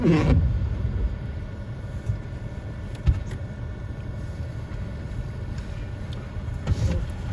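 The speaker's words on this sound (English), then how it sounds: "There's a couple of pilot vehicles coming in." Pilot vehicles roll in on the Dalton Highway in Alaska, a steady low engine and tire rumble at moderate distance, with a few brief knocks and clunks along the way.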